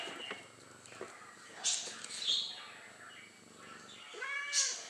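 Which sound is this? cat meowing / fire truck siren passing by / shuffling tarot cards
cat meowing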